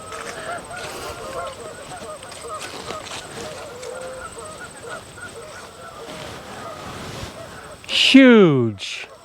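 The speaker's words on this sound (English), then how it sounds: "You can hear the geese." Geese honk in the distance at Mille Lacs Kathio State Park, Minnesota, through steady outdoor background noise, then one louder, nearer honking call rings out near the end.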